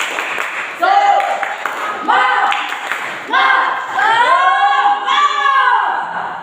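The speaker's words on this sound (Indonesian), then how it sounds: "Kelompok 1, tepuk semangat." A school class group performs the rhythmic Indonesian 'tepuk semangat' spirit clap, voices chanting loudly in unison in bursts with claps woven through the chant.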